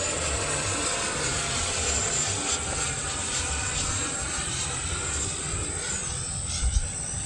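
An E-flite F-16 RC model jet with an electric ducted fan passes overhead, giving a steady, loud rushing whine that holds constant throughout with slight shifts in pitch.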